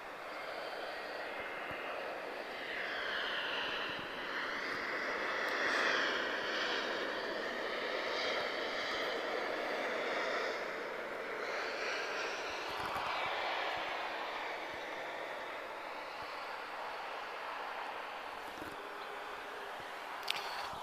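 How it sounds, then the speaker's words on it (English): An EasyJet airliner touches down in Lisbon, heard as a faint, distant, steady jet roar with a wavering, slowly shifting engine tone and a few soft clicks. No one speaks. "EasyJet touchdown."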